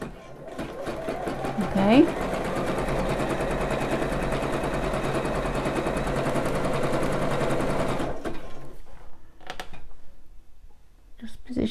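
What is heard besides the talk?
sewing machine sewing a slow three-step stitch on a bra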